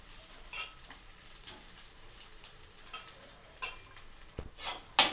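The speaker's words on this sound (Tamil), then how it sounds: "இப்போ இதை நல்லா நம்ம மிக்ஸ் பண்ணி விட்டுடலாம்" Coconut rice being mixed in a pan, with a spoon scraping and clinking against the metal in scattered short strokes, fairly close and quiet, ending in a sharper knock.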